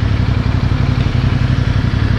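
A CF Moto 450NK motorcycle idles close by, its engine putting out a steady, pulsing low chug with a light mechanical clatter and no talk.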